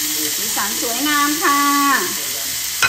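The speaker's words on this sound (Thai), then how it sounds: "ทำมีเดียมเวลนี้เราก็ไม่ต้อง ทอดแบบนานเท่าไหร่ค่ะ" Steak frying in a pan gives a steady, bright sizzle running throughout, partly beneath someone talking.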